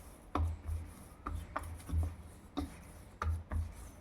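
Fried dough ball of jowar flour crumbled by hand, giving soft, irregular crunchy rubs and crackles in short bursts with low thuds, close and fairly quiet, no talking.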